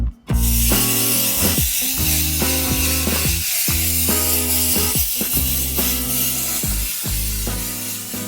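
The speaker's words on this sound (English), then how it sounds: "I have to spray this and fill the cockpit." An aerosol can sprays into the cockpit of a small aircraft before a solo flight across the Timor Sea: a steady, close hiss runs almost unbroken over a layered mechanical hum that pulses in short sections.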